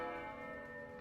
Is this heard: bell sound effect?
yes